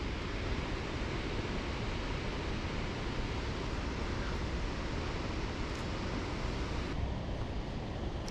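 An Icelandic waterfall roars as a steady, dense wash of broadband noise, loud and unbroken throughout, with no voices.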